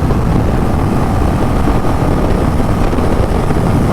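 Royal Enfield Bullet 350 Battalion Black motorcycle at high speed in fifth gear, a loud continuous engine drone buried in heavy wind rush, with no talk.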